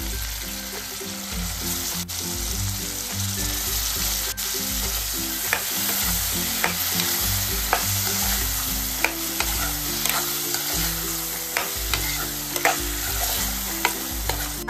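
Cut mushrooms fry in masala and oil in a pan, giving a loud, continuous sizzle broken by regular spatula scrapes and taps, close and alone.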